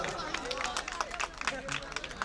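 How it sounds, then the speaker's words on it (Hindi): A poetry recital audience bursts into dense, lively clapping mixed with crowd murmur, steady throughout and fairly close. "देखो शेर अच्छा पढ़ा तो जोरदार तालियां बजा दो।"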